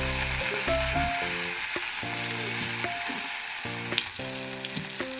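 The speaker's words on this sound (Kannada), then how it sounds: "ಸ್ವಲ್ಪ ಕಾಯಿ ಹಾಕ್ಕೊಂಡು ಫ್ರೈ" Tomato, ginger and coconut frying in a pan for sambar give a steady, close sizzle that runs through the whole stretch, with sustained tonal notes layered over it and no talking.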